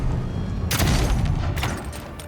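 Two booming gunshots from a gun in the fantasy game Avowed, spaced under a second apart over a steady low rumble, no voices.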